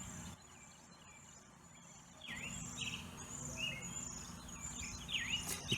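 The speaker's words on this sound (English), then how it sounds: "You can tell I'm a city kid because I'm not used to hearing birds in the morning." Birds chirp and trill outdoors in the morning, with thin, quick calls overlapping at moderate distance over a steady low background hum that grows busier and louder partway through.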